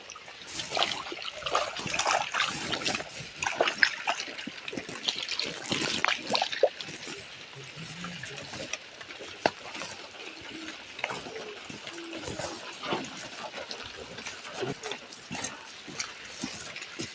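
Water trickling and splashing nearby in an uneven, continuous flow, with occasional clatters and rustles mixed in.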